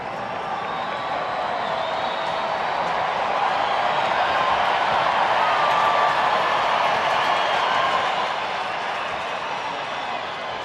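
A spring training baseball crowd heavy with Texas Rangers fans cheers in a broad, steady roar that swells in the middle and eases toward the end, with no clear voices standing out.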